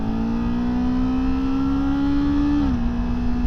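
Kawasaki Ninja 7 Hybrid motorcycle engine, 2024 model, running steadily in eco mode with a close, even motor whine that holds a constant pitch then drops briefly near the end as the drive kicks in.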